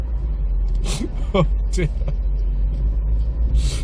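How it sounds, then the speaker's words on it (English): A 1998 Vauxhall Corsa B 1.4i Cabriolet crawls slowly through the village centre of Titchfield, its engine a steady low rumble heard from inside the car, with a brief voice speaking over it. "Here I am crawling through the centre of Titchfield in my Corsa Cabrio."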